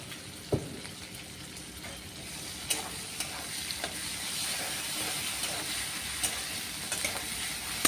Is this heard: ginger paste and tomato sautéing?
yes